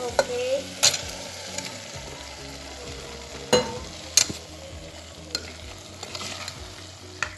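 Half-fried chicken sizzles in a pan with tomatoes for chicken biryani, a steady low frying hiss broken by several sharp scrapes and clacks of a spoon stirring at irregular intervals.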